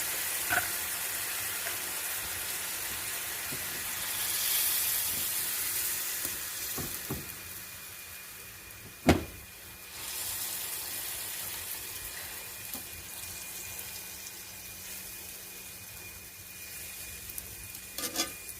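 A steak sizzles in a pan after a splash of marsala wine, a soft, steady crackle and hiss with a few clinks and one sharp knock of a utensil against the pan partway through.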